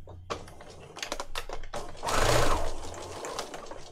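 A sewing machine stitching down a pocket on a handmade file folder journal, with short bursts of rapid mechanical needle chatter followed by a louder sustained run, close up and alone.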